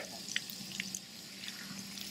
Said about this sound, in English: After her daily swim, Lorraine takes a brisk shower, rejuvenated.